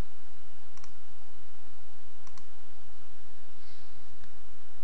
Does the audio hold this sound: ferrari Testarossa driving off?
no